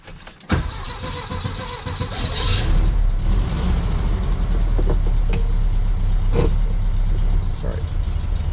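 A Volkswagen Beetle's engine, just back from a suspension rebuild, catches with a short burst and then runs at a steady, fairly loud idle that holds throughout, with a voice faintly audible at times.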